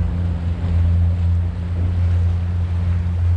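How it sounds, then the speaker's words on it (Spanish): A large boat passes on the St. Clair River, a steady deep engine drone with churning water and wind noise running continuously and fairly loud, with no talk. "¿Qué clase de barcón? Y como empuja agua."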